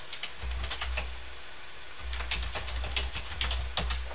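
Typing on a computer keyboard while entering data into an Excel spreadsheet, a quick irregular run of soft key clicks close to the microphone, pausing briefly before another burst, with no talking.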